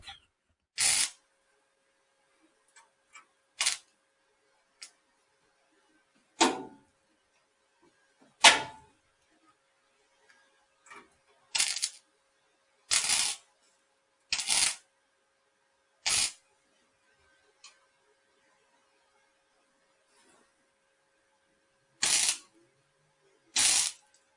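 Short, sharp crackling bursts of welding on the window frame of a 1950 Ford F1 rat rod come in separate quick tacks. The bursts are spaced irregularly, with long stretches of silence between them.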